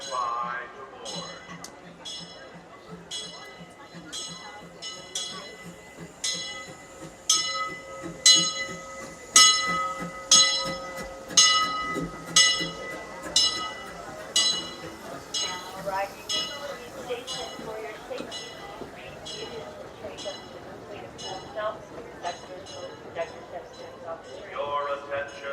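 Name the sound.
Disneyland Limited train arriving with bell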